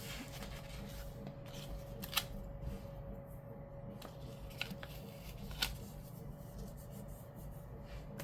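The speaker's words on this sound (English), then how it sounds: "we're just going to trim this box" Scissors trim a cardboard box at a crafting desk, with a few sharp snips and light paper rustling standing out against quiet room noise and a faint steady hum.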